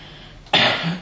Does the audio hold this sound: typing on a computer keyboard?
no